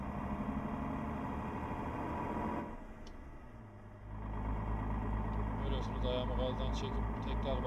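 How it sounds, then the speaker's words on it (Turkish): A Mercedes Axor 3240 truck in Euro Truck Simulator 2 drones with a deep engine and exhaust note that dips as the throttle lifts, then returns louder and fuller, with someone talking over it. "Ayağımı gazdan çekip tekrar bastığımda güzel bir tatmin edici bir egzoz sesi veriyor yani."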